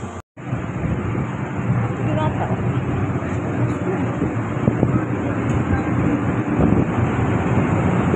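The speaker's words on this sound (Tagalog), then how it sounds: "Malakas ang hangin." Strong wind buffeting the microphone outdoors in the rain, a loud continuous roaring rumble lasting the whole time, with people speaking underneath it.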